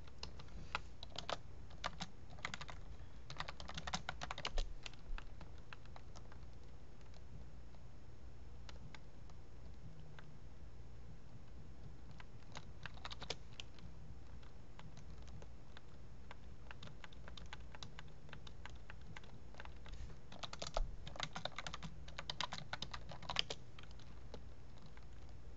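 Computer keyboard keys clatter in irregular bursts of rapid typing with quiet pauses between, close and fairly soft against a low background hum, no voices.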